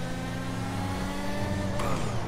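Formula 1 car in GTA 5 Online driving with a steady high-revving engine drone, pitch shifting up slightly toward the end, close and loud with no talk.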